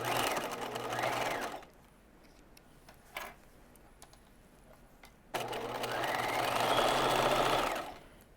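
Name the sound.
sewing machine stitching pant fronts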